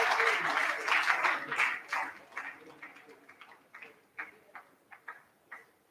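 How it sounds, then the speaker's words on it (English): Applause from an audience at a formal housing agreement signing ceremony in Nigeria, starting as dense clapping and thinning to a few scattered, separate claps toward the end. "Another round of applause for Mr. Femi Adewale."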